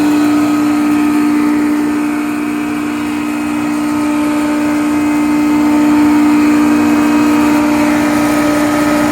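A rebuilt McCormick No. 4-E hammer mill driven by a Leeson electric motor running steadily, giving a loud, constant hum with a strong tonal whine and an even whoosh of air and no talk.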